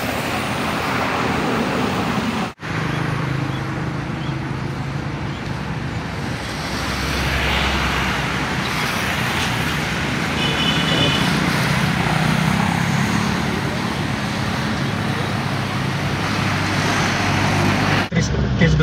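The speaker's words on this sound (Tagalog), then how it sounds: "Test drive tayo ngayon ng ating DA63 4x4 na manual going uphill" A Japan-surplus Multicab DA63 4x4 manual mini truck, loaded with sacks, climbs uphill with a steady, close engine drone and road rumble. A voice talks over it, and two sharp clicks break the sound.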